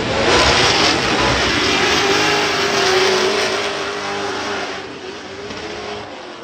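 Drift cars race in tandem at a Riga drifting final, engines loud and close as they rev hard in a sustained roar that eases off slightly toward the end.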